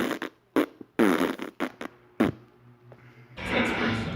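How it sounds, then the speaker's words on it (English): A comedic fart noise sound effect comes in as a string of short, loud, sputtering blasts with gaps between them, ending in a longer noisy burst. "That whole entire fart noise is about to come in about 3"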